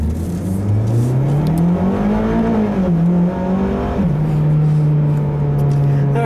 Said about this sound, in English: I'm gonna drive this car the rest of the afternoon here